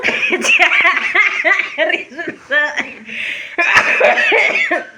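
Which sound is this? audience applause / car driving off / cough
cough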